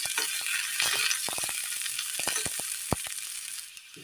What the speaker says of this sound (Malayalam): കടുക് പൊട്ടിയതിന് ശേഷം ഉള്ളിട്ട് കൊടുക്കാം.